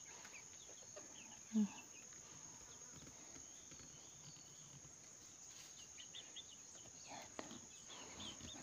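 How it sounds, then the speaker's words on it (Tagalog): Quiet outdoor ambience with a high steady insect drone and a few scattered distant bird and fowl calls, one brief sharp call standing out. "Tahimik, tanging mga ibon lang ang maririnig."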